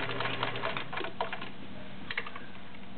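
A vintage Kenmore 1625 convertible free-arm sewing machine stitches through three layers of leather in a quick burst of rapid, clattering needle strokes. The stitching then slows into a quieter mechanical whir.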